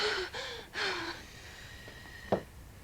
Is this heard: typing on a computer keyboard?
no